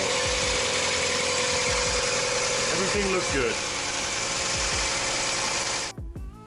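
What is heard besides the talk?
car engine idling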